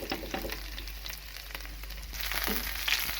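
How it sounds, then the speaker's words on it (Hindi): Hot oil sizzles and crackles steadily in a pan while tempering saag greens with garlic, with faint stirring sounds and no talking. "इसके बाद मैं साग को तड़का लगाऊंगी।"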